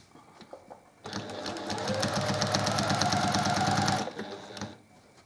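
A sewing machine stitches a small cross-hatch quilting line diagonally through a quilt block, starting abruptly, running as a steady fast mechanical chatter for about three seconds, then stopping, close and clear.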